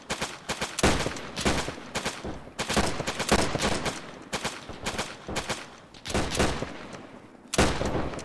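Rapid gunfire in the video game Arma, with loud repeated bursts of shots and short gaps between volleys, continuing throughout.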